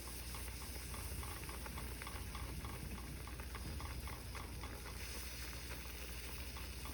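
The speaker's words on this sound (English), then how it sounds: "Keep stirring it." Gravy for breakfast is being stirred in a pan with milk, giving a faint, continuous hissing simmer with soft, irregular scraping as it cooks, steady and low throughout.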